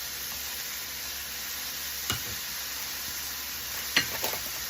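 Chicken with shredded cabbage, carrots and scallions sizzling in a stir fry, a steady close hiss with two distinct stirring clacks and no talking.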